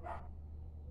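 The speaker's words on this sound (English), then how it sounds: "There's more than one dog." A single short bark from a dog somewhere in the distance, followed by quiet background hum.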